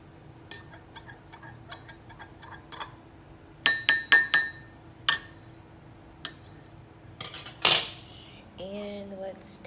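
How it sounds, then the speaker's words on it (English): A metal spoon stirs honey into a golden milk drink in a glass, giving a series of sharp, close clinks and taps, sparse at first then clustered, with a quiet tone near the end. "So I'm gonna give it a stir."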